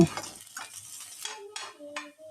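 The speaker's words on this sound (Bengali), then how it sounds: "এবার মশলাগুলো সোনালি বাদামি করে ভেজে নেব" Spices and dried chillies fry in oil while being stirred, with a soft sizzle and a few light scrapes and taps of a utensil against the pan over a couple of seconds.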